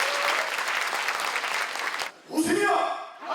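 Applause from an audience at a Busan send-off ceremony for athletes, dense clapping that breaks off briefly before a second burst, with a voice over it.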